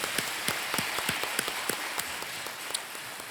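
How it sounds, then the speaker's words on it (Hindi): Audience applause welcoming a contestant on the KBC quiz show stage, a dense steady patter of many hands with a few sharper claps standing out, moderately loud and continuous with no talking. "तालियों के साथ आपका स्वागत करते हैं रूना जी"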